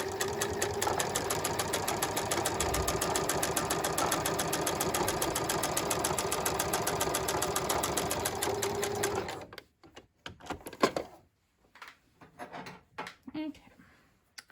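Close, steady run of a sewing machine top stitching a garment back at a long 3.5 stitch length, an even rapid whirring hum for about nine seconds before stopping, followed by scattered handling clicks and rustles.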